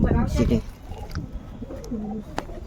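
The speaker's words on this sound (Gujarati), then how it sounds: "આપણા કબૂતર જો અહીંયા બધા બેઠા છે" Pigeons perched together coo in soft, low warbling phrases, close by, after a loud burst of talking at the start, with scattered faint clicks around them.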